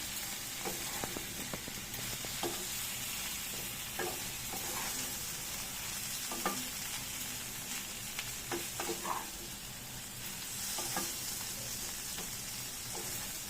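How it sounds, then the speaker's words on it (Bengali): Potatoes and prawns stir-fried together in a pan over lowered heat, a steady close sizzle with scattered scraping clicks of the spatula throughout, no voices. "এবার ভালো করে কষে নিই আলু আর চিংড়ি একসঙ্গে।"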